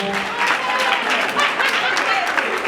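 An audience at an awards show applauds for an artist, a steady patter of clapping from a crowd with a few voices mixed in underneath.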